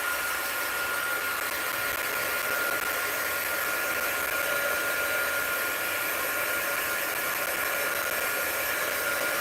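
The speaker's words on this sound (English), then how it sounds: "Let's get out my heat gun. Dry this off a little." A heat gun blows steadily and loudly throughout, drying a magazine collage page in an art journal, with a constant whooshing roar and no talking.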